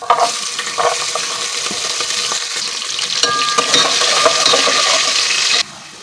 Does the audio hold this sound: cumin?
yes